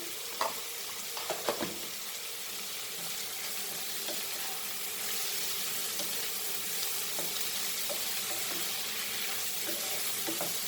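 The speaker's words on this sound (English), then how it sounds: "Fry this very nicely." Ginger garlic paste frying in a pan for a Goan dry prawn and dry fish curry, a steady close sizzle running throughout with a few knocks of stirring near the start and no voices.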